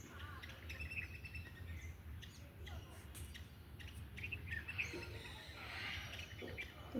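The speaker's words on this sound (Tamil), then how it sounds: "அது மேலே தான் உட்காந்துருக்காங்க பாருங்கள் அந்த பறவை வெயிட் பண்ணிகிட்ருக்காங்க" Sparrows chirp in short, bright bursts around a rooftop garden, scattered calls coming from a short distance over a soft outdoor background, with a faint voice now and then.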